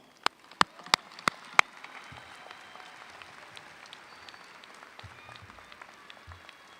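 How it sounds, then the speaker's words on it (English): An audience at a graduation ceremony applauds, starting with a few sharp, distinct claps before settling into a faint, distant, steady patter of clapping. "please give those in your life who supported this day a round of applause"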